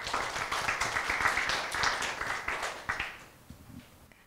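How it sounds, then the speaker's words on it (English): A conference audience applauds with dense, sustained clapping from many hands that holds steady for several seconds, then thins out and fades near the end. "Please give her a big round of applause."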